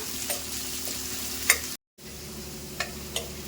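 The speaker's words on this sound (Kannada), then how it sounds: "ಈರುಳ್ಳಿ ಕೆಂಪಾಗೋವರೆಗೂ ಹುರ್ಕೊಳ್ಳೋಣ." Chopped onions frying in oil until reddish for chicken masala: a steady close sizzle with occasional sharp scrapes of a stirring spoon, briefly cutting out to silence partway through.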